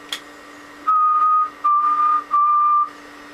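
A person whistles three steady, sustained tones into a microphone, each about half a second long with short gaps, loud and clear over a low constant hum.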